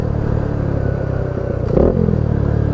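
A Kawasaki Z125 Pro motorcycle's steady close engine rumble swells in a brief rev-matching blip during a downshift from third to second gear, then settles back to an even idle-like drone.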